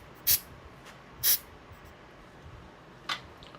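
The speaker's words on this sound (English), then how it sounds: "we'll get our activator spray, which is this stuff here, which is fantastic. So we'll just do a little squirt." Aerosol glue activator spray squirted onto a plastic model kit: two short, sharp hissing bursts close by, then a fainter third one, with quiet handling noise between.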